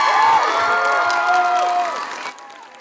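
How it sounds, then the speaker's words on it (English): Audience at a high school spring chorus concert claps and cheers for returning alumni, a bright burst of applause with whoops and shouts that fades out toward the end. "So if you give the alumni 2020 a hand."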